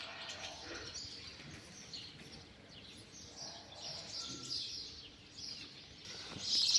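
Faint, high chirping from baby sparrows in nests outdoors, thin repeated peeps rising and falling over a quiet background, growing slightly louder at the end.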